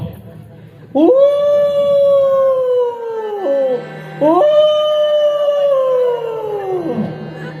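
During a Marathi bharud folk performance, a human voice imitates dogs howling at night: two long, loud, wavering howls, each rising then trailing down.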